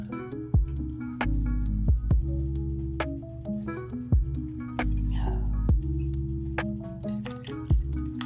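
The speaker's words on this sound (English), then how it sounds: "So add the cornmeal to the bowl, and then you stir it." Cornmeal being stirred in a bowl, with a spoon striking the side in sharp clinks at a loose, repeating rhythm over a low, steady background hum, close and fairly loud, without speech.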